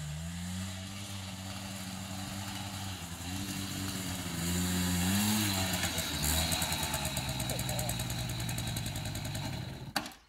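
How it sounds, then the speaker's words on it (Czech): A motorcycle engine idles and revs with a throaty, pulsing drone, rising and falling in pitch before stopping suddenly. "motorka"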